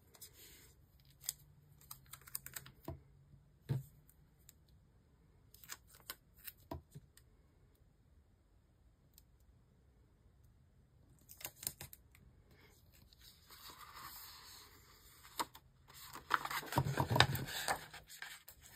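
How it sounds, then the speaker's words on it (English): Small scissors trim paper stickers for a journal in scattered quiet snips and rustles, with a busier burst of paper handling near the end; no one talks. "I'm going to trim this and trim that."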